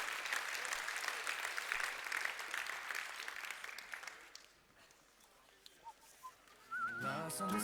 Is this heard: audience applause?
yes